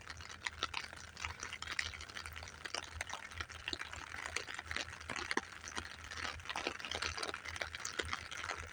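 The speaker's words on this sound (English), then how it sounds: "It is pouring down harder." Rain pouring down hard beside a railway station, a steady wash of patter and irregular drips and splashes close by, fairly quiet overall with no talk.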